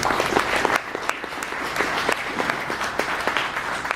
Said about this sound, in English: I'd like to please give a big round of applause